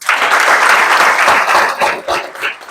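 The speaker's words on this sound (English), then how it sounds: "I think you should clap for me for that" An audience of school students claps loudly and continuously, a dense wash of applause that dips briefly near the end before swelling again.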